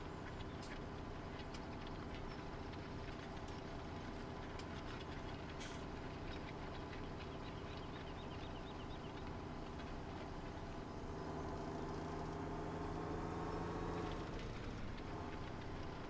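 Farming Simulator 17 in-game engine drone from the largest tractor on a multiplayer server, a faint, steady idling rumble that runs on alone without pause.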